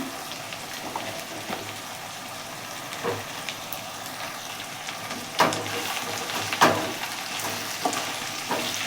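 Tomatoes fry in a pan over browned onions for mutton gravy, giving a steady close sizzle with a few soft stirring scrapes and clatters. No one speaks.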